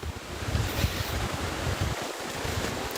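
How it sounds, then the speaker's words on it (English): A brook flows behind a living space, a continuous broad rushing of water with low rumbling surges, fairly close and steady, mixed with some wind buffeting the microphone. "Even with the windows closed, you'll still hear the brook at night."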